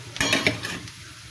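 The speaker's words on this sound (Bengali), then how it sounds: "এবার একটু নাড়াচাড়া দিয়ে নিলাম, দিয়ে আবার ঢেকে দিব।" A spoon clinks and scrapes against a pan while stirring taro stolons cooking with a little ghee, a few quick metallic knocks over a soft sizzle, close and with no talking.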